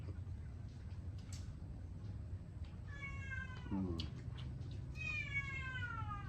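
A cat meows a few times outdoors during lunch grilling, drawn-out rising and falling cries standing out clearly over a steady low background rumble.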